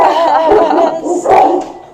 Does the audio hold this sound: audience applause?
no